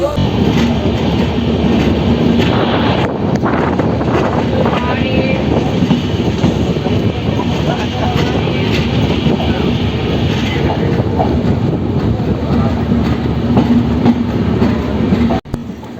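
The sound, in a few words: passenger train running fast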